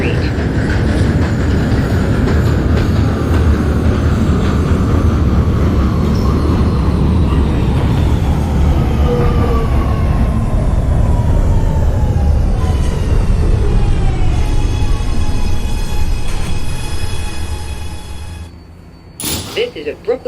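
NYC Subway R211 train in the OpenBVE game running loud and steady with a heavy rumble and rising whine, then slowing and fading out before a brief clatter at the end.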